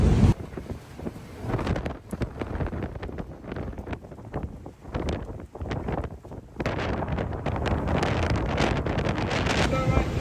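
A 40-knot apparent squall wind buffets a sailboat at sea, roaring and gusting hard against the microphone with surging, uneven bursts that build louder toward the end, under faint background talk.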